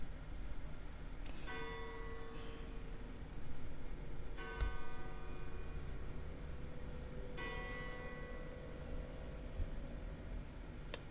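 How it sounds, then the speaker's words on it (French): Church bells ring out in several distinct strikes spaced a few seconds apart, each with a long shimmering decay, set against steady background noise. "les cloches de l'église qui ont sonné"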